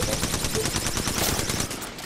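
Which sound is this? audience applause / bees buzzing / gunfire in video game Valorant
gunfire in video game Valorant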